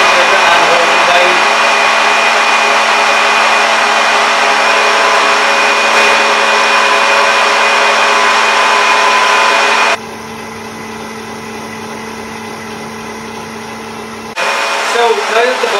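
An electric whisk beats butter until pale, a loud steady whirring drone for about ten seconds that then drops to a lower, quieter hum as it is turned down before briefly rising again, with no one talking.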